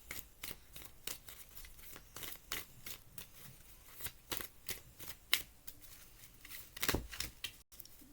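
Tarot cards shuffled and drawn by hand at close range: a long run of quick papery riffles and flicks, steady and fairly quiet, with no voice over it.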